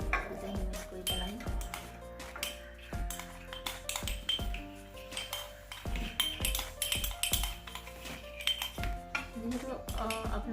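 A spoon stirs and mixes homemade baby cough syrup in a small metal vessel, giving quick, irregular metallic clinks and pings against the sides, close and fairly quiet.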